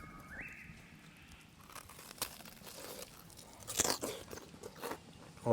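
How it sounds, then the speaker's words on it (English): Crispy roast pork crackling from a campfire camp oven being broken and crunched, a few sharp snapping cracks and crinkly tearing bursts over quiet outdoor background, loudest near the middle and end; no talk. "The old tested crackling. See how crunchy it is."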